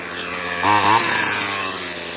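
A RedMax weed eater with a brand-new carburetor, after sitting for 20 years, buzzing loudly up close with a steady high-pitched two-stroke drone and a brief rev partway through.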